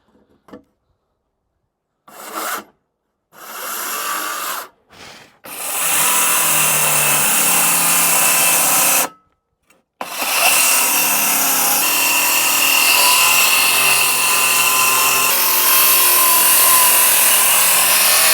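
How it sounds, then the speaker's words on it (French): Sawing through wood while installing a Brico Depot kitchen, finishing a cut into a corner after a circular saw: short bursts, then long continuous loud rasping strokes, broken by one brief pause, up close. "On termine à la scie parce que la circulaire, comme c'est une lame ronde, bah ça peut pas aller dans l'angle."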